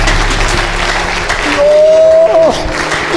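A church congregation at a sermon claps loudly together in praise of God. The applause is steady and continuous, and a voice and a brief whistling tone come through partway.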